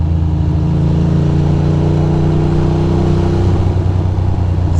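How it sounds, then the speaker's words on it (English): A bus drives along a city street and accelerates, its engine a loud, close, steady mid-pitched drone with rising harmonics, heard without talk. "This bus is making moves."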